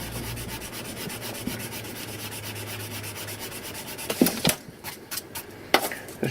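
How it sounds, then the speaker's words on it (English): Rapid rhythmic scrubbing of a rubber eraser over pencil marks on paper, close and steady for about four seconds, then breaking into a few sharper, separate rubbing strokes. "I'm going to get a rubber, hopefully, and just rub out a bit"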